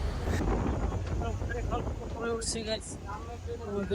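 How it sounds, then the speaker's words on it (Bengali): A passenger launch (river ferry) underway near Chandpur: a steady low engine and water rumble with wind buffeting the microphone, heard under someone talking throughout. "লঞ্চ অলরেডি চলতেছে"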